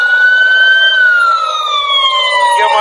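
A sheriff's vehicle siren wails loudly and close, a single sustained tone gliding slowly downward in pitch without interruption.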